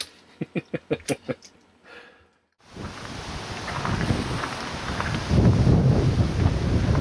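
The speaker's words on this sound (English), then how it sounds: "Just heard a lot of thunder and saw some lightning." Several sharp, rhythmic thumps open the clip, followed by a brief quiet, then steady rain and wind rising to a dense rumbling roar of a thunderstorm with lightning in Panguitch, Utah.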